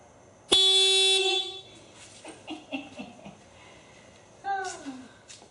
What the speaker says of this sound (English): I'm going to show you the stock horn, what it sounds like